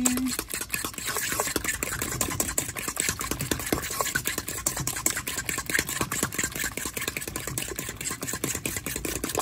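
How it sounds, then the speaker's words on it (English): Egg being stirred into a mixture in a bowl, heard as a rapid, steady run of close scraping and tapping strokes that continues without pause. "Mix the egg in there."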